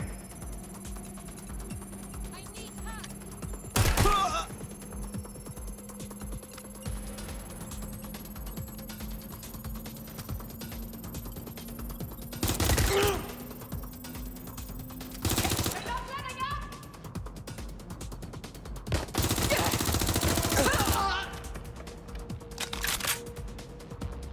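Scattered bursts of gunfire in the video game Watch Dogs: Legion, a few sharp volleys spaced apart over a steady low ambient hum, with voices speaking at times.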